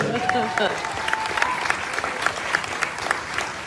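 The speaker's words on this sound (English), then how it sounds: "Another big round of applause, ladies and gentlemen, for Kelly Fisher" Audience applause in the arena at the WPBA Soaring Eagle Masters pool tournament final, a steady dense clatter of many hands with a few sharper claps rhythmically picked out, running under faint background chatter.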